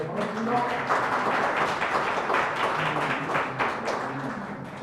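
Guests at a Korean policy seminar on small-business jobs are welcomed with moderate, steady clapping from the audience, heard at mid distance in a hall, with faint voices mixed underneath.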